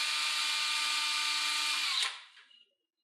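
Power drill boring a pilot hole in hardwood with a 7/64 bit, a close steady whirring drone that cuts off after about two seconds and winds down to silence.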